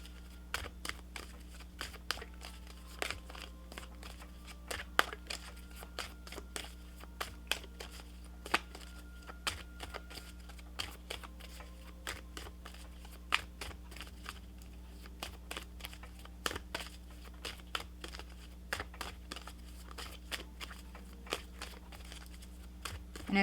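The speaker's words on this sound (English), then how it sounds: "if you're not a fan of the shuffling, my apologies" Tarot cards being shuffled during a reading, soft intermittent riffles and crisp card snaps repeating irregularly over a quiet background hum, close and faint.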